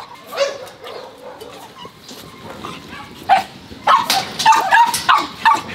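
A dog at an animal shelter barks several times in quick, uneven bursts, mixed with yips and whimpers, fairly close with a slight echo.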